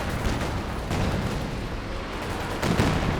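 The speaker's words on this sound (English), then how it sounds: "this could be the Katyusha barrage of doom" A Katyusha rocket barrage in a real-time strategy video game, a rumbling stream of launches and explosions with heavier blasts near the start and end, loud and continuous, with no voices.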